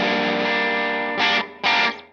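A Fender Starcaster electric guitar rings out through distortion and effects, one sustained chord followed by two short stabbed chords, loud and alone.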